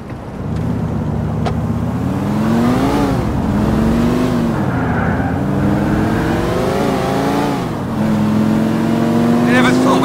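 A car is driven in the video game GTA The Ballad of Gay Tony, its engine a loud, close, steady drone that rises and falls in pitch as it accelerates and shifts gears, with a voice speaking over it.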